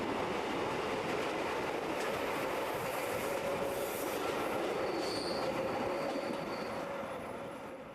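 A Swiss metre-gauge narrow-gauge train rolls steadily along the rails near a station, producing a continuous rumbling roar with faint wheel squeals and no voices.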